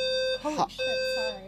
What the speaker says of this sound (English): That is the fire alarm in my building.